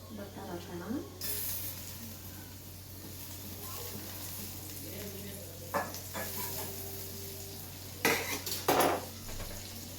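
Butter melting in a pan on low flame, with soft sizzling under spoon scrapes and clinks of utensils against the pan, and a person talking at times.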